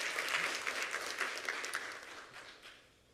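Audience applause at a school Building Teacher of the Year announcement, a moderate crowd clapping steadily and then fading away over a few seconds, with no one speaking.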